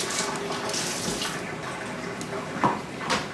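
Kitchen tap water runs steadily into a sink while a seeded pepper is rinsed for tacos, with a couple of light clinks near the end and no voices.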